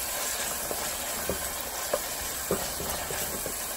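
Tomato paste being stirred into chili in a pan over medium-low heat brings a steady close sizzle, broken by several light scraping strokes.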